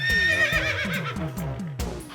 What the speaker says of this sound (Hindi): घोड़ा है।